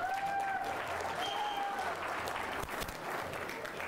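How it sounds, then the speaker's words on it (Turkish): An audience claps for young archers at a children's national archery championship, steady applause filling the hall while an announcer speaks over it. "Evet, sporcularımıza koca bir alkış."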